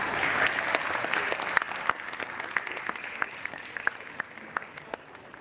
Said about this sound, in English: Ladies and gentlemen, a round of applause for PCC's former presidents.